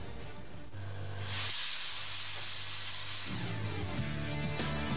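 A steam-based burglar alarm unit at a security trade fair releases a loud, broad hissing blast of steam lasting a few seconds, with low mechanical hum beneath it.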